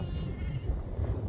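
Sheep bleating on a farm, a steady low-pitched rumble of voices and movement from a flock close by, continuous through the short moment with no talk.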